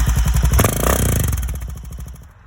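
Motorcycle engine running at idle after the start button is pressed, a loud, close rhythmic thumping pulse with some mechanical clatter, gradually easing down in level.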